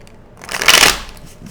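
A deck of tarot cards is shuffled once up close, a brief, crisp riffle of flapping cards that swells and fades within about half a second, with no talking.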